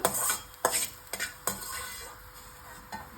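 A spoon scrapes and stirs ginger sautéing in a pan for a ginger and garlic thokku, with several sharp metallic clinks and scrapes over a faint background hiss.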